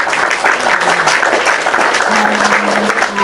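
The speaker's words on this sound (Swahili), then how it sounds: "let us clap for the people that dressed Ida Odinga and her family" An audience applauds the people who dressed Ida Odinga and her family, with loud, dense clapping holding steady from start to finish and no clear talk over it.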